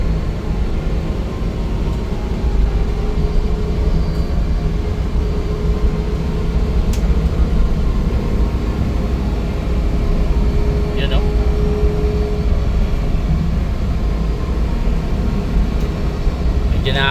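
A Suzuki DA17V 4x2 van with a Tiptronic AGS gearbox drives on a road test, with a steady, loud low engine and road drone throughout and a few brief faint clicks, alone without talk.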